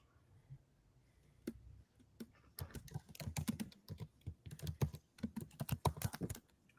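Rapid clicking of fingers typing on a computer keyboard, close by, starting sparse and then becoming a quick, irregular flurry of keystrokes.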